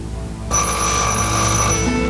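A telephone bell starts ringing abruptly about half a second in, a loud, sustained bright trill with a steady metallic buzz that holds before easing off near the end, heard alone with no voices.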